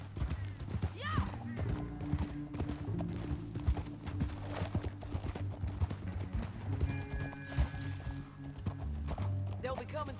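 Horse galloping in Red Dead Redemption 2 through a canyon, a quick steady clip-clop of hooves heard up close, with someone talking over it and a brief whinny.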